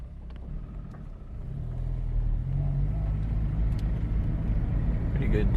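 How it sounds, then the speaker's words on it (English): A 2006–2011 Honda Civic Hybrid pulls away on a test drive, its low engine and road rumble building steadily from inside the cabin, moderately loud and continuous. "Let's go for a test drive."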